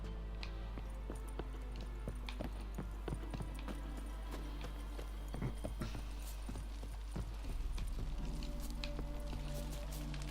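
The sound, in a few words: horse hooves galloping in video game The Witcher 3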